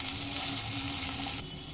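Tomatoes with turmeric powder fry in a pan over a medium flame, giving a steady, close, dense sizzle that softens slightly near the end.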